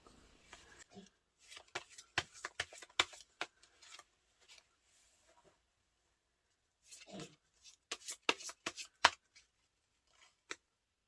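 Tarot cards are shuffled by hand in two quick bursts of crisp, close riffling clicks, separated by a quiet pause.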